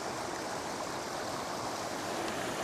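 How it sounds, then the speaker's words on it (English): River water pouring from a bottle into a beaker, a steady broadband splashing trickle that runs continuously and fairly close, with no speech over it. "So I'm going to take some water from the river, using this bottle."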